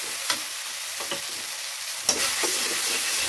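Onions frying in hot oil for an Odia-style pepper prawn curry, a steady close sizzle with two or three sharp scrapes of a spoon stirring the pan.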